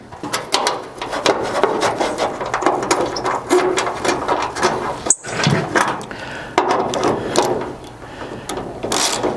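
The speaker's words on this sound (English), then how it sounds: "then I'll bolt this back on" Wrench ratcheting and metal rubbing as a hood brace is bolted onto a 1973-87 Chevy Squarebody truck, with repeated close clicks and scrapes running steadily throughout and one brief sharp knock partway through.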